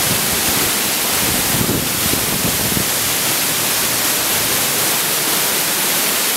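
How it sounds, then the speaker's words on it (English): Glacial meltwater waterfalls pour off a glacier in Alaska, a dense, continuous broadband rush of falling water heard close and loud, mixed with wind buffeting the microphone. "Got little waterfalls and everything coming in off every end of this glacier."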